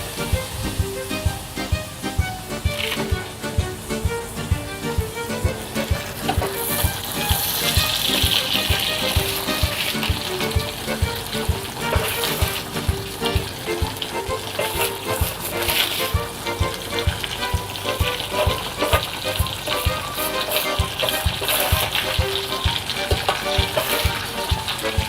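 Fennel frying in a pan gives a continuous close sizzle with a rapid crackling rhythm that stays loud and even throughout, with no voices.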